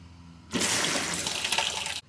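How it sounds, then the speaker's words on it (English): Water rushing steadily from a van's fresh water tank fitting during a leak test, a loud continuous splashing flow lasting about a second and a half before stopping abruptly. "We have a single drip."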